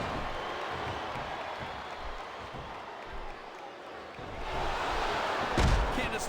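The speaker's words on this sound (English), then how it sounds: "This capacity crowd is making their opinions known tonight." A capacity arena crowd roars in the wrestling video game WWE SmackDown vs. Raw 2007, a continuous distant cheer that swells louder toward the end with a sharp thump near the close.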